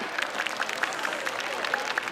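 Steady applause from a festival audience at an outdoor Yosakoi dance stage after a team's performance, a dense, even patter of many hands clapping at moderate distance with no talk over it.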